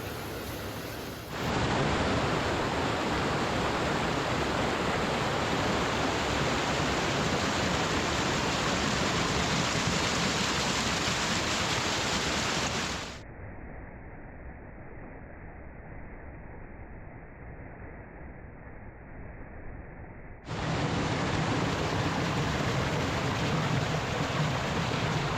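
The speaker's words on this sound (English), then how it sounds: "No less than 9 levels of cascades in this one shot right here." Multi-tiered waterfall cascades at Kelly's Run roar in a dense, steady rush of falling water. The sound turns muffled and duller for several seconds in the middle, then returns full and bright, with no voices.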